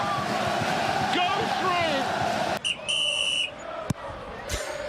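A referee's whistle cuts in briefly amid the roar of a packed football crowd at Blundell Park during a Grimsby match. A commentator talks loudly over the noise, and the crowd din drops away after the sharp blasts.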